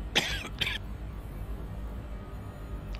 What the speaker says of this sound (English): my apologies for coughing in your ear like that.